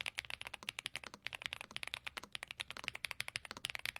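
Rapid, steady keystrokes on a creamy-sounding Youngzy IF99 mechanical keyboard, a 98% layout with numpad and LCD screen, clicking close and distinct in a dense typing rhythm with no talk.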